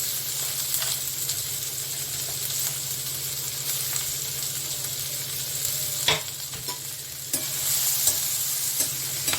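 Steady frying sizzle of chopped onions and green chillies in oil with a crackling hiss throughout, with occasional scraping stirs and clinks of a utensil, no talking.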